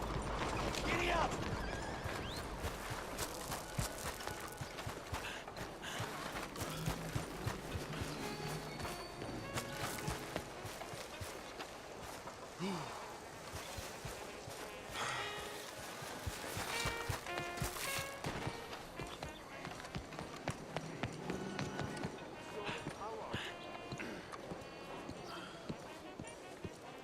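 A horse gallops in the Red Dead Redemption 2 video game, with rhythmic clip-clop hoofbeats and neighing over dense game music, effects and spoken dialogue throughout.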